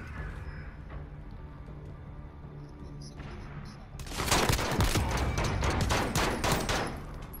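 Burst of heavy gunfire with shotgun blasts in a Modern Warfare Search and Destroy match, erupting loud and dense after a few seconds of quiet game ambience and continuing as a rapid volley.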